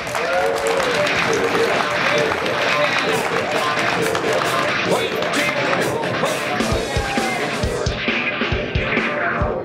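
A conference audience at a ChefConf 2015 panel applauds and cheers loudly and continuously, dense clapping with some yells, close and sustained before tapering slightly near the end.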